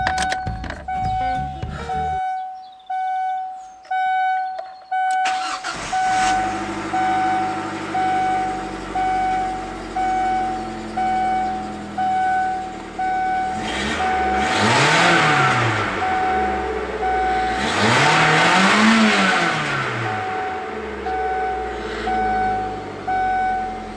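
A car engine with its catalytic converter removed cranks and starts after a few seconds, then idles with a deep rumble and rises twice in revving swells, while a repeating electronic beeping runs alongside.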